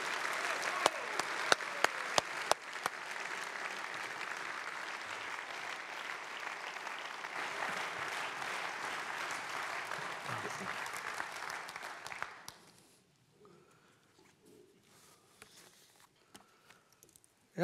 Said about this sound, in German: Ich bitte Sie um einen kräftigen Applaus für unseren Altbundesrat und Vizepräsident der SVP Schweiz